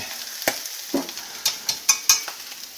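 Sand lances sizzle and crackle in a hot frying pan after the heat is turned off, with scattered sharp pops and spits over a steady frying hiss, close and fairly loud.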